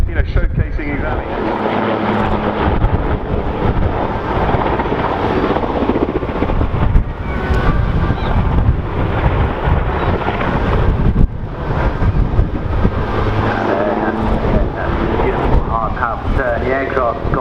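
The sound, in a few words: twin-engine propeller aircraft blades cutting air, blade slap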